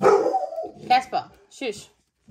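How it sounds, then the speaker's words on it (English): A golden retriever barks indoors in a few short, loud bursts, mixed with a person talking over and between the barks. "He's a golden retriever, so he loves to pretend that he's a good guard dog."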